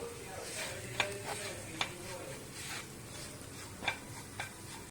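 Spoon stirring jeera, pepper and masala powders in a pan while making a quail egg roast, with a few sharp scraping clicks over a low, steady sizzle close by.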